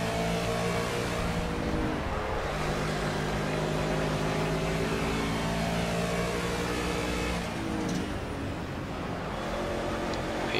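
Race car engines roar continuously at Watkins Glen in the Project CARS racing game, GT touring cars including a BMW and Mustangs, with layered revving tones rising and falling through gear changes, loud and close throughout.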